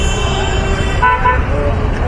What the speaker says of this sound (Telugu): ఎంత ఫుల్ ట్రాఫిక్ ఉన్నారు,